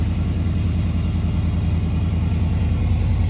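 A Chevrolet C1500 step side pickup truck engine running steadily at idle, a loud, close, even low rumble with a constant throb and no rise in revs.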